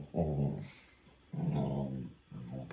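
A dog growls in low, rumbling bursts, three drawn-out snarls separated by brief pauses, close and fairly loud with no talking.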